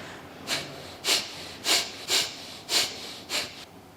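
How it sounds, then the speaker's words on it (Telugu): Kapalabhati yoga breathing: six sharp, forceful exhalations through both nostrils, evenly spaced about half a second apart, loud and close with quiet pauses between. "కపాలభాతి అంటే ఏ చేతుల సహాయం లేకుండా చేసేది కపాలభాతి అంటారు ఇలా రెండు నాసికల ద్వారా"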